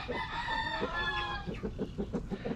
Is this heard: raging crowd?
no